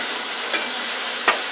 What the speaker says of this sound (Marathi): बटाटे बघा अशा पद्धतीने पातेल्यात टाकून घ्यायचे आहे आणि चांगले ढवळून घ्यायचे आहे।